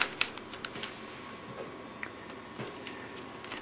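A sheet for a solar panel being folded, with crisp rustling and crinkling of the material in several short, close bursts that thin out into lighter handling noises.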